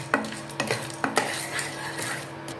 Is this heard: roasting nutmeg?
yes